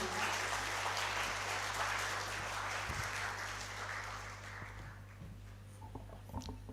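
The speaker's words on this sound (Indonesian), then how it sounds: "Kita berikan aplaus terlebih dahulu." A seminar audience applauding after a speaker is introduced, dense sustained clapping over a low room hum that gradually thins out, with a few scattered claps at the end.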